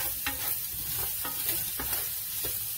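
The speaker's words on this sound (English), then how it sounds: "That's enough sauteing" Food sautéing in a frying pan for a western hash, with a steady sizzle broken by rhythmic scraping strokes of a utensil stirring about every half second, close and fairly quiet.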